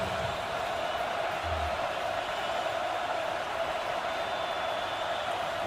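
Washington Huskies fans at a college football game against Oregon, a steady distant roar of cheering spread across the stadium, continuous and even in level.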